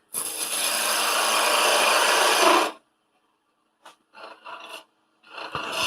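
A smaller gouge cuts wood on a lathe while turning a small Christmas tree cone shape, giving a loud steady scraping, rasping burst for nearly three seconds, then a few short cuts after a pause, with no talking.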